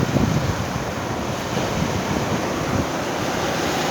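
Sea waves washing up on a shore, a broad continuous roar of surf mixed with heavy wind buffeting the microphone, loud and close with no voices.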